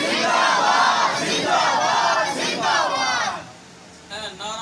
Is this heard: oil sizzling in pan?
no